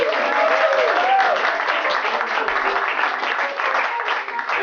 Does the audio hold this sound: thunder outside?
no